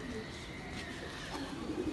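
Home-bred young pigeons coo softly and faintly at a rooftop loft during pigeon flying, with a low, steady background and no clear talk.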